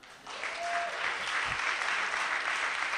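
A church congregation bursts into sustained, dense applause during a service. The clapping rises quickly and stays loud and even for several seconds, with a brief voice near the start.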